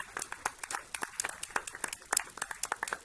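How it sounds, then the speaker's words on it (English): Scattered, sparse hand claps from a small school board meeting audience honoring high school staff, individual claps distinct and uneven, fairly close and alone. "let's give a round of applause to our staff from Memorial High School"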